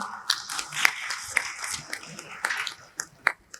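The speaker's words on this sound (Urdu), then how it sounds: "پلیز تشریف لائیے آپ کی بھرپور تالیوں میں" Scattered applause at a memorial conference as a panelist is welcomed, a few sparse, irregular hand claps rather than a full ovation, with voices around.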